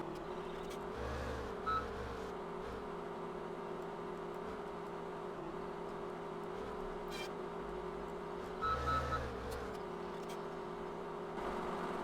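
A Ponsse Wolverine forestry machine drives in Farming Simulator 17, its engine holding a steady hum with two brief revving surges, with no talk.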